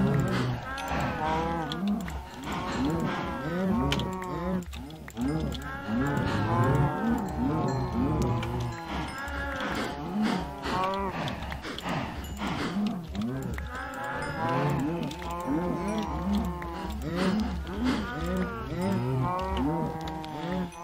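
A large crowd of cows in Minecraft moos continuously and loudly, many overlapping calls layered into a dense, noisy chorus with no pauses.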